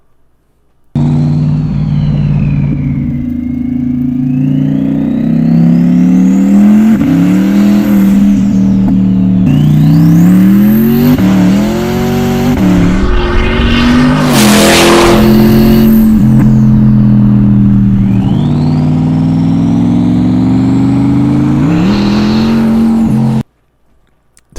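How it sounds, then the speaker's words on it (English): Hennessy twin-turbo C8 Corvette engine revving loudly and close, rising and falling through several sharp throttle blips over about twenty seconds, with one especially harsh high-pitched peak midway and no talking. "Just watch and listen for a brief second here while we hear and see what Hennessy has come up with as far as a twin-turbo Corvette,"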